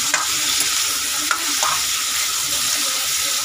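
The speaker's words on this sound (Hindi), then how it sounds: "बस इसे नॉर्मल सा हमें इसमें फ्राई करके निकाल लेना है" Food fries in a pan for a pulao, giving a loud, steady sizzling hiss with a couple of brief stirring knocks near the start and middle; no voices.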